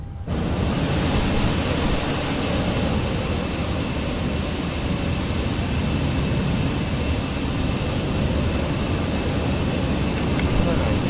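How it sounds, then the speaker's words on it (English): Jet airliner taking off in a flight simulator video game, a loud steady roar of engines that swells in at once and holds as a broad continuous rush. "lining up taking off runway 19 on the right via Alpha 6"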